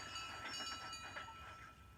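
A storybook steam engine chuffing off into woods, heard as a steady rolling train rumble with faint rhythmic chugging and hiss, continuous and fairly close for a couple of seconds with no voices.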